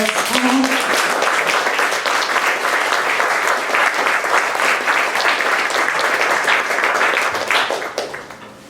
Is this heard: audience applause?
yes